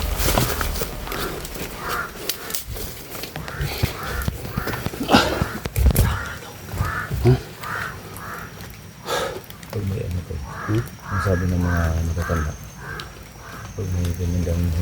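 Crows caw repeatedly, with harsh rhythmic calls in bursts, loudest near the end, mixed with clip-clopping hooves and people talking throughout.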